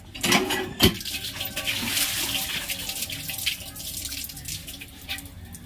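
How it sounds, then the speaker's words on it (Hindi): Running tap water splashes and rinses carrots, with hollow clunks and shifting splashes as they are washed under the flow, close by. "तो गोटे भल पानी रे धोईदेवा"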